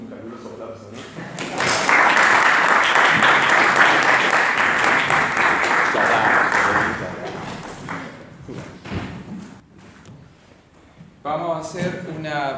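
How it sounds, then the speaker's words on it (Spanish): Warm audience applause at an evening philosophy lecture, swelling loudly for about five seconds, then thinning into scattered claps and murmur before a voice begins talking at the end. "recibirlo con un caluroso aplauso"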